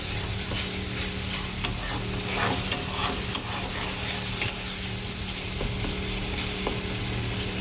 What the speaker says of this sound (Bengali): দেখো মশলাটা কষানো হচ্ছে